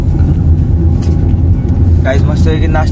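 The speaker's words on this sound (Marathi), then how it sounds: "पुदादांनी गाडी घेतली चालवायला." A car drives along a road, its engine and tyres giving a steady low rumble from inside the vehicle while people talk over it.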